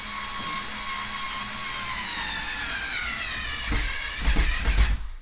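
A power drill drives 1 1/4 inch screws into a wall to mount a fishing rod rack, a steady whining motor with rising pitch, then a few louder bursts and a clunk as the screw seats.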